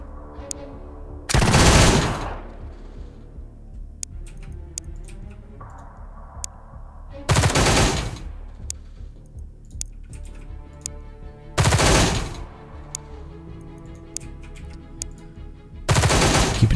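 Suppressing gunfire in the turn-based strategy game Xenonauts 2 comes as four loud bursts of automatic fire spaced a few seconds apart, with quieter interface clicks and game sounds between them and no talk.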